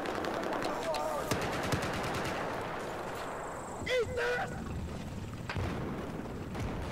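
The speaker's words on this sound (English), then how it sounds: "We got a tank shooting at us." Rapid gunfire and heavy booms from a tank firing in a Battlefield 4 Conquest Large 64-player multiplayer match, dense continuous battle noise with a sharper blast near the middle, under excited player talk.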